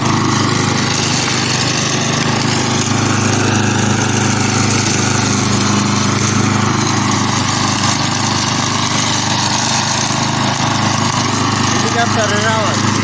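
A grass cutting machine runs in a garden in Dubai, a loud, steady engine drone with a buzzing mower whine that holds unchanged from start to finish, with faint talk underneath.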